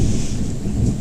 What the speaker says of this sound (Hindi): ये बादल के गरजने की आवाज़ है